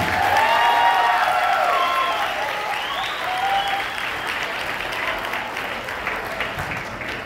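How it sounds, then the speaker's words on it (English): A school concert audience gives sustained applause, a dense even roar of clapping that swells at the start and tapers slightly, with a few voices and whistles mixed in. "One more round of applause before they get to the stage."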